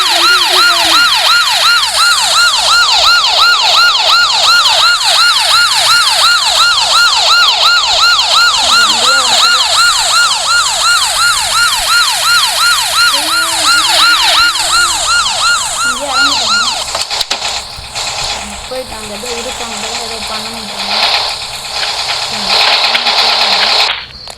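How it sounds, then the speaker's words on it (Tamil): A wailing police siren from the Roblox game Barry's prison escape rises and falls continuously and loudly, with a voice talking over it, before it gives way to rumbling game noise. "நம்ம இப்போ இந்த போலீஸ் சவுண்டு கொடுத்துட்டே போகிறோம்"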